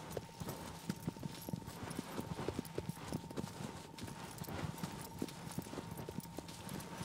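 Horse hooves clip-clop in a steady galloping rhythm throughout the video game Shadow of the Colossus, close and continuous with a faint background hum, no talk over it.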